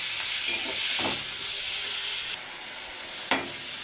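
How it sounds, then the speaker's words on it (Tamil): Tomatoes fry with salt in a pan for tamarind curry, giving a broad, steady sizzle and hiss with a couple of brief stirring scrapes, close up with no talk. "தக்காளி போட்டு நல்லா வதக்கணும்."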